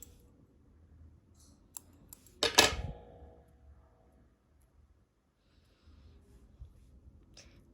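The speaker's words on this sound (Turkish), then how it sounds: "Ve buraya dönme atarak ipimi buradan kesiyorum." A pair of scissors snaps through thread during needle lace work, one crisp close cut followed by a brief rustle, with faint clicks before and after in a quiet room.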